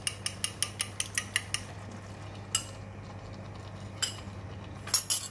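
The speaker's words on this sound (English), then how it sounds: "Just stir in the egg." Utensil stirring beaten egg into soft cooked cabbage in a pan for a simple stir fry: a quick run of rhythmic metallic clinks against the pan, then scattered single scrapes and taps, close and fairly quiet over a low steady hum.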